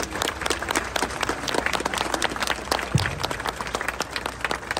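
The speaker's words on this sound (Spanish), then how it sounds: "Le vamos a dar un fuerte aplauso aquí a Monseñor Palmero." Crowd at the traditional Señor Santo Entierro church festival in Alaquines, San Luis Potosí, applauds a visiting monsignor. Dense, continuous clapping rattles on at a steady loud level for several seconds.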